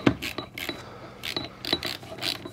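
Wrench tightening 9/16 bolts on a garage door torsion spring, a quick series of sharp metallic ratcheting clicks and taps in an irregular rhythm, close and fairly faint, with no talking.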